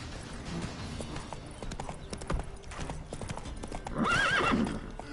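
Hooves of the horse Roach clip-clop steadily in The Witcher 3: Wild Hunt, a mid-close rhythmic trot with a brief whinny toward the end.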